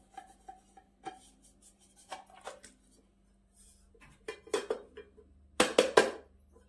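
A steamed milk dessert is turned out of its mold onto a plate, with sparse light clinks and scrapes of utensils and dishware. The sounds build into louder, sharper knocks at the end.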